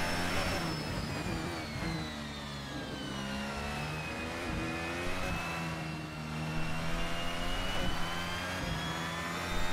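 A race car engine in a Formula racing video game at Melbourne, Australian GP, on a flying lap, a loud, sustained whine that rises and falls smoothly through gear changes, with no talk.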